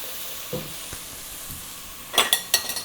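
Vegetables sizzle softly in a pan with a faint hiss, broken by a few light scrapes and then several sharp, close metallic clinks of a utensil against the pan.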